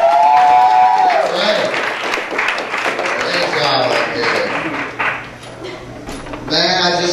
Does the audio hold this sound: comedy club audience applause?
yes